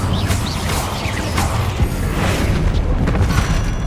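Incendio fire spell cast in Hogwarts Legacy, a whooshing burst of flame with booming, crackling impacts and mechanical clanks, loud and continuous with no talk.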